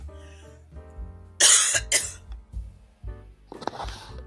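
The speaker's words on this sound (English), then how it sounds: "I have coughed so much that I don't have energy to cough anymore." Someone with a cold coughs several times at close range, the harsh bursts coming in a rough, uneven sequence between quieter breaths.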